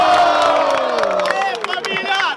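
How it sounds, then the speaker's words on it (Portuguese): A crowd at a Brazilian student freestyle rap battle in Guarulhos cheers, whoops and claps loudly after a round, with excited shouting voices layered over a dense, continuous roar of the audience. "Palmas pra esse maluco"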